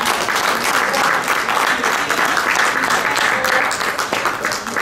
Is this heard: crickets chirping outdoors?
no